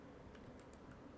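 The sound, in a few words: typing code on a computer keyboard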